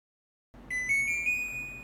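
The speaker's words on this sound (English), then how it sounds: "We see the LED on, we hear the startup beep." After a moment of silence, an inverter unit's startup beep switches on and holds steady, a thin single high electronic tone lasting over a second, close and fairly soft.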